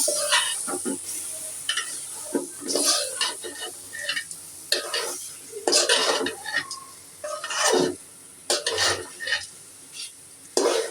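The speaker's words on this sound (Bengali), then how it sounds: "চাউলগুলো দিয়ে দিছি, এর সাথে কষাই দিব।" Rice grains being stir-fried in a cooking pot while making biryani, giving close scraping stirs and soft sizzling in irregular bursts, with occasional clinks of a utensil against the pot.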